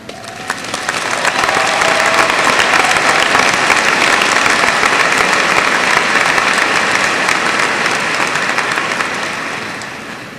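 Loud, sustained applause from a large audience at a 2002 high school graduation ceremony, swelling in quickly and holding steady for several seconds before beginning to fade.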